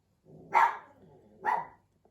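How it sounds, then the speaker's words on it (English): A dog named Daisy barks twice, loud and close, about a second apart, with a low murmur of background sound between the barks and no talking. "I think Daisy was barking because I was talking"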